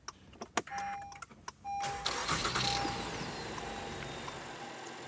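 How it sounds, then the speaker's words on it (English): An Acura car's engine cranks with a few clicks and a whine, then catches and settles into a steady running hum that gradually quiets, heard from close by. "You need to run the engine while using the compressor to inject sealant and air."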